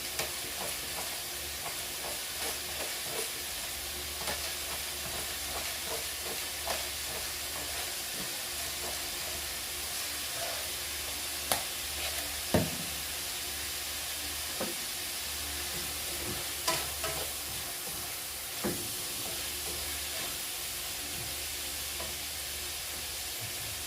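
Fish frying in a pan with celery, pepper and salt, giving a steady sizzle and hiss throughout with occasional sharper pops and spatters.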